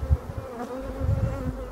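Honey bees swarming out of a hive, half the colony leaving with the old queen, make a dense, steady buzzing drone, close and continuous, with individual bees whirring past near the microphone and no voices.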